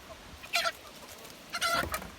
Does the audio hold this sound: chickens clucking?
yes